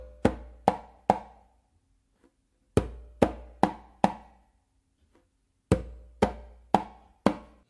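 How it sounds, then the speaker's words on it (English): Closed palm slaps from the right hand on a hand drum, played in short groups of sharp, dry hits separated by brief silences, close and alone with no talking. "you're going to do 2 close slaps with your right hand"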